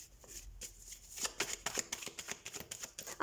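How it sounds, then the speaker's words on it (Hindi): Tarot cards riffle-shuffled close by, a dense run of crisp, fluttering slaps that grows busier and louder over a few seconds. "तो हम कार्ड शफल कर लेते हैं।"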